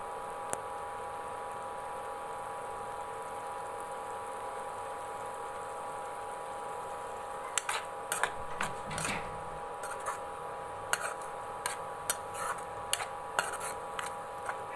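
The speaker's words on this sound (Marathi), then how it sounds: "हे टोमॅटो, हे चांगलं परतून द्यायचं." Tomatoes being sautéed and stirred in a pan, a steady background hum first, then a run of sharp taps and scrapes of a spoon against the pan, spaced irregularly over several seconds.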